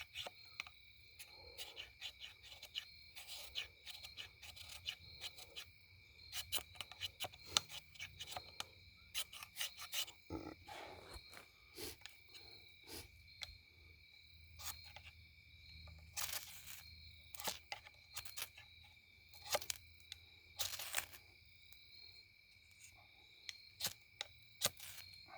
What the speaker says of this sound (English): this is a ferro rod that it came with, which I have not used yet. Scrape some off here.